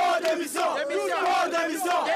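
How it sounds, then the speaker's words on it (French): A large protest crowd in Lomé, Togo, at the September 2017 demonstration against Faure Gnassingbé, chanting and shouting together in loud, rising and falling waves of massed voices. "Une foule déterminée a répondu à l'appel."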